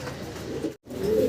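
Fancy racing pigeons at a pigeon farm coo softly in low, throaty bursts, close by, with a brief moment of silence midway and no talking.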